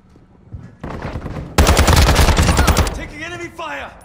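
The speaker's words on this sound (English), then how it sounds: "Taking enemy fire!" Enemy gunfire in Call of Duty Modern Warfare II breaks out as a loud, rapid automatic burst lasting over a second, after scattered quieter shots, followed by a voice calling out over the fading noise.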